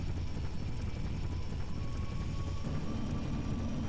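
A steady, dense rotor-and-engine drone from a helicopter flying in a modded Halo 3, loud and unbroken throughout with no pauses or speech.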